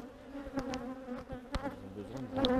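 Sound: honeybees buzzing in a hive

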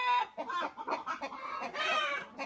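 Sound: rooster clucking

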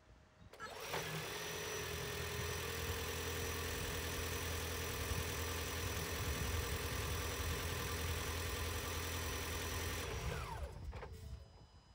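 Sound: hybrid pickup truck engine starting and idling

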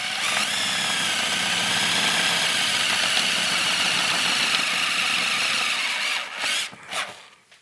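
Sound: electric drill boring with a larger bit

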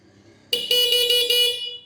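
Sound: horn of a Honda CG125 motorbike modified to RX100 style

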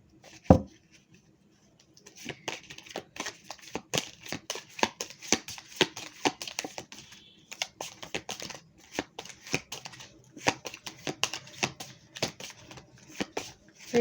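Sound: handling and shuffling cards for a reading

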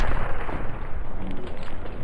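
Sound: V2 rocket strike explosion in the video game Call of Duty Vanguard

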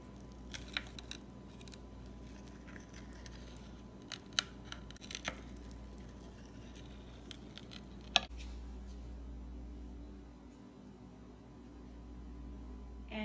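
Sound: cutting a pizza

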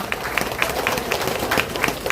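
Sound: audience applause after singer's performance

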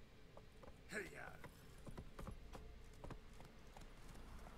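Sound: horse Roach's hooves clip-clopping, from video game The Witcher 3

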